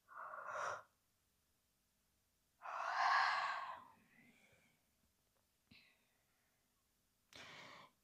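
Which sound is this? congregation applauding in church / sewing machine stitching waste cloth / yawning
yawning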